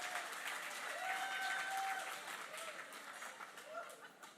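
Applause from the audience at a camp fundraiser bash livestream, a steady, moderately faint wash of clapping that persists throughout under a few faint tonal whistles.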